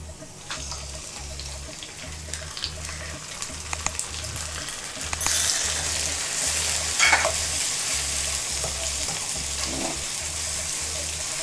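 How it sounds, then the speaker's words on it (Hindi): Ginger garlic paste frying with browned onions in a pan, a steady close sizzle with occasional stirring scrapes, alongside a rhythmic low hum. "अभी हम इसके अंदर जिंजर गार्लिक का पेस्ट डालेंगे।"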